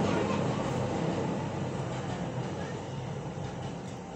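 A train passing nearby, a steady broadband rumble and rush that holds loud for about four seconds and eases slightly toward the end, with no talking over it.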